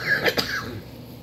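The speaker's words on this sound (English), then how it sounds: "I've been smelling for 10 minutes. That's why I'm coughing." A man gives one short, close cough with a bit of throat clearing, after smelling a raw onion for several minutes.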